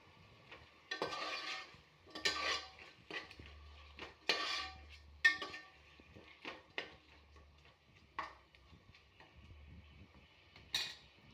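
Vegetables fry in a little oil in a home-kitchen pan for a simple rice lunch, with quiet sizzling under repeated stirring scrapes and utensil clinks against the pan, fairly faint and intermittent.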